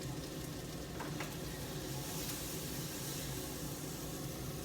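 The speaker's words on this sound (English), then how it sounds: "These peppers look amazing. Check them out. But they're still sizzling. Can you hear the sizzle?" Peppers sizzle and fry in a hot pan, a dense, constant crackling hiss that fills the whole stretch close to the microphone with no talking.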